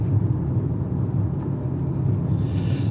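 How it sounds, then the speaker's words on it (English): Low, steady rumble of road traffic from inside a car stuck in heavy congestion, with a constant muffled engine and road drone and no distinct passing vehicles. "Stuck in traffic. A lot of it. A lot of traffic."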